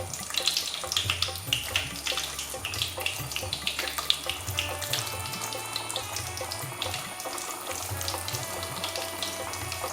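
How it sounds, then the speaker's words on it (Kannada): Khaja chirote dough frying in hot oil gives a steady, dense bubbling sizzle that holds for the whole stretch, close and fairly loud with no talking. "ಇವಾಗ ಅದು ಫ್ರೈ ಆಗಲಿ."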